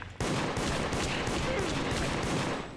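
Gunfire in the horror game Deceit, a sudden onset of steady, loud shooting that continues close up for nearly three seconds before tapering at the end.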